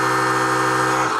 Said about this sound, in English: this is the contact microphone on the electric toothbrush